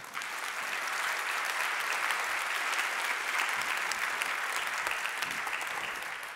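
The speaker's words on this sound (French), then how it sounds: "On applaudit l'invité." An audience at a school concert applauds a guest with sustained, even clapping that holds steady and loud throughout before tapering slightly at the end, with no voices over it.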